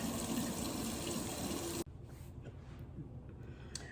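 Hot water runs steadily from a kitchen tap during cleanup, a dense, loud gush that stops abruptly partway through and leaves a quieter room with faint clatter.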